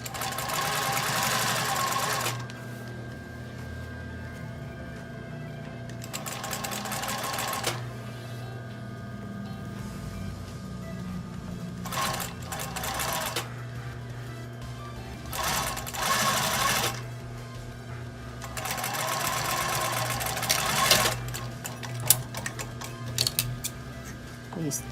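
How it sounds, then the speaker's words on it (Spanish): Sewing machine stitching along the folded bias binding edge of a shirt-style blouse, running in several loud bursts with quieter pauses between, and faint talk in the gaps. "vamos a pasar nuevamente una costura por el borde del sesgo o del orillo que he doblado"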